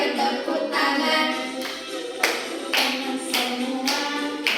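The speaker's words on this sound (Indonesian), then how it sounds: "ayo tepuk tangan" Children clap their hands together during a classroom action song, repeated bursts of claps in a rhythmic pattern, mixed in with voices singing along.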